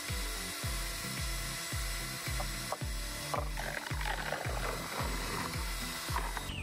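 A power drill with a mixing attachment stirs hydroponic nutrient solution in a big tub, dissolving master blend and Epsom salt. The motor whirs steadily up close, and a regular pulsing churn runs all the way through.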